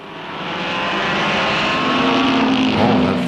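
Race car engine revving hard at a track, a loud sustained roar that swells and climbs in pitch as it builds, heard alone without talk.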